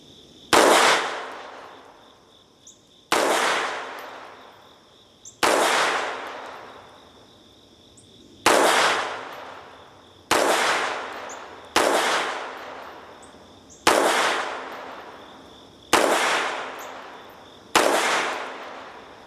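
A CZ 50 pistol fires .32 auto rounds in a steady string of eight sharp, loud shots about two seconds apart, each crack ringing out and decaying before the next, with no talking.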